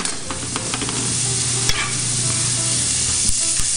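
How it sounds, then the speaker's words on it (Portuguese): Chopped onion browning in hot oil in a pan, a steady loud sizzle with intermittent scraping as it is stirred, no voices over it. "Vamos dourar a nossa cebola."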